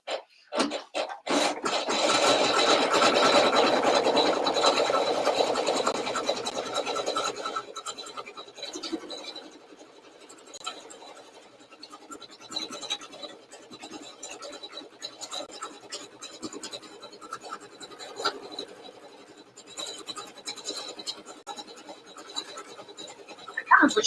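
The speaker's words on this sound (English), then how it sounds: "Okay, so now I'm just going to stitch this." A home embroidery machine stitches a bunny design, a fast, buzzy needle rattle that is loudest at first and then settles into quieter, uneven scratchy runs, with a voice speaking at times.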